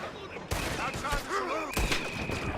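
Gunfire in the western video game Red Dead Redemption 2, sharp loud bursts starting abruptly and recurring over a busy game mix, with voices speaking and shouting over the shots.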